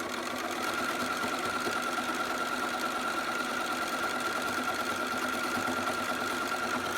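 A sewing machine runs steadily along a seam on newborn prop pants, giving a continuous close whirring hum for several seconds with no talk over it.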